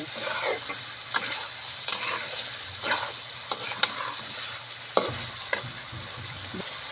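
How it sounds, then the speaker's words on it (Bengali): Mixed vegetables being sautéed with masala in a pan for a chicken vegetable curry: a steady close sizzle of oil with repeated scraping and stirring strokes of a spatula, no voices. "আমরা এখন সবজিগুলো দিয়ে দেব। সুন্দর করে সবজিটা একটু আমি মশলার সাথে কষাই নেব।"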